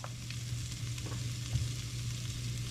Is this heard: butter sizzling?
yes